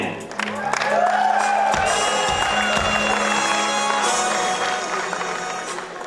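An audience at a Rotary Club award ceremony in 2015 claps loudly and continuously, a dense wash of applause with a few cheers, while a voice carries over it on a sound system.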